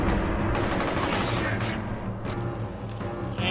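Pistol fire in the video game F.E.A.R. Extraction Point, dense loud shots and combat noise packed together without pause, no talking.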